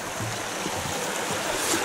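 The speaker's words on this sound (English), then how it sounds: "Crossing over Chew Brook now." Chew Brook, a moorland stream on Saddleworth Moor in the Peak District, flows with a steady broad rushing wash heard up close while crossing over it, with no voices.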